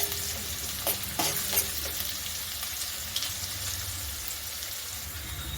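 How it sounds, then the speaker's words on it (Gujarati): Chopped onions sauté in a pan until brown, giving a steady close sizzle of frying with a few soft stirring scrapes early on and no voices. "તો આ રીતે આપણે ડુંગળીને બ્રાઉન કલરની થાય ત્યાં સુધી આપણે તેને સાતળવાની છે"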